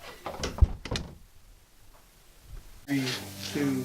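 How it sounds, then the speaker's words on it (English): A door bangs open or shut with a couple of sharp knocks near the start, then a quiet stretch before voices and a tonal chime-like sound come in. "I didn't leave that door open."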